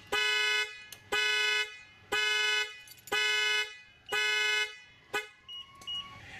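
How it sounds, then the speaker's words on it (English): A car horn set off by a burglar alarm blares in five evenly spaced half-second blasts, loud and close, followed by a few softer chirps as it stops. "make sure you got your burglar alarm remote ready so the horn doesn't drive the neighbors nuts."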